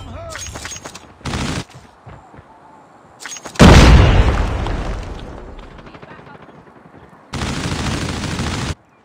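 Call of Duty Mobile gameplay on an iPhone 13 brings loud bursts of gunfire, a heavy explosion rumbling away, and further sharp volleys separated by quieter gaps.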